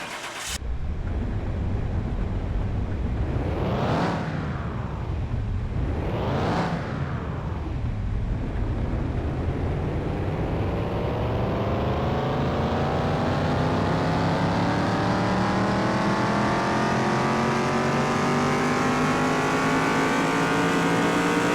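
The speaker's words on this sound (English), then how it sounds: "let's send her to the dyno and see what we get" A car engine in Car Mechanic Simulator 2021 revs on a dyno, heard as two sharp rising and falling revs followed by a long, steady climb in pitch as the engine pulls hard, loud and close, with no talk.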